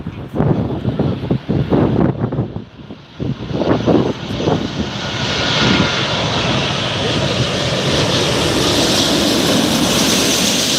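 Loud airliner jet engines roar and build into a steady, broad rush close by at LAX airport, with some wind buffeting and indistinct talk early on.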